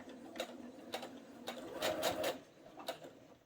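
A home sewing machine stitching a mitered corner, several short quick bursts of needle clatter separated by pauses, faint and close, with no talk.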